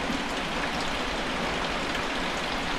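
Steady heavy rain pouring down, a dense continuous hiss of drops hitting surfaces, loud and unbroken with no voices.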